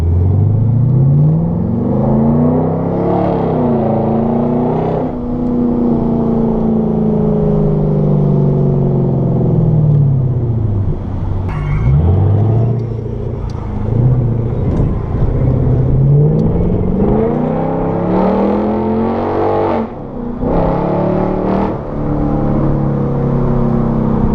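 Lexus GS460 engine rumbling loud from inside the car through a slow U-turn at a local cruise, revs swelling and easing with a few throttle blips, no talk.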